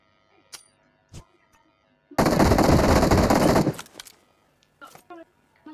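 Sustained burst of automatic gunfire in the PUBG battle royale game, loud and continuous for about a second and a half, with sparse single shots and clicks before and after.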